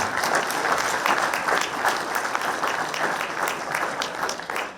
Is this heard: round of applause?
yes